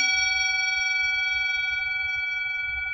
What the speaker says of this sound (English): So I ring the bell